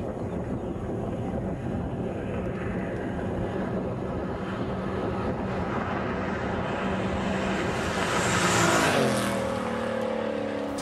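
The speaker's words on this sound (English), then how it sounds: "That's a 1966 Corvair with a V8 engine" A 1966 Chevrolet Corvair fitted with a Chevy aluminum 283 V8 runs steadily at a constant idle-like drone, then revs up sharply near the end, its pitch climbing before settling back.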